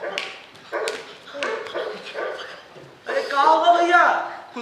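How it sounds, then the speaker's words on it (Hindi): A big dog barks in short sharp bursts, then breaks into a high, wavering whimper, close and clear, with human voices mixed in among the calls. "कुत्ता, बड़ा कुत्ता।"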